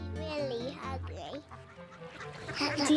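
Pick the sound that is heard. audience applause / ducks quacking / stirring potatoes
ducks quacking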